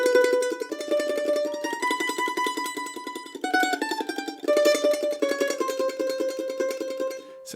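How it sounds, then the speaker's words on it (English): A mandolin plays a melodic tune with Italian-style tremolo on every note, rapid picked repetitions sustaining each pitch, clear and close with a few brief pauses between phrases. "This tune, if you were to play it like an Italian mandolin player, would sound like this."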